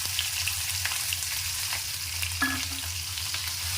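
Ginger, garlic and onion spice paste fries in a pan with a steady, close sizzle, broken by a few soft stirring scrapes and a brief louder spatter near the middle.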